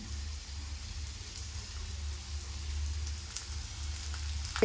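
Oil sizzles steadily in a frying pan after being poured around food that has just been flipped, a soft continuous crackling hiss with a few faint pops, no talking.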